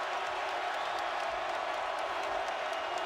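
A crowd at a Virginia Tech Hokies home basketball game against Duke gives off a steady, broad roar of cheering and murmur, moderately loud and continuous with no single standout burst.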